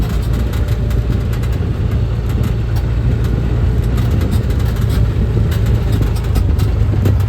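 Dump truck driving along a ditch road, a loud, close, continuous low diesel rumble with a steady engine drone throughout and no talking.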